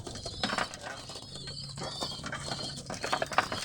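Hungry pigeons coo softly nearby amid faint fluttering and shuffling, with occasional mechanical clicks in the background.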